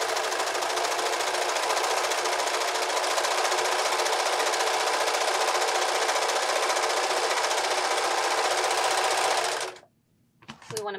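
A serger hums at high speed in one long, steady run, stitching the front and back layers of a skirt together. It stops abruptly near the end, followed by a few handling clicks.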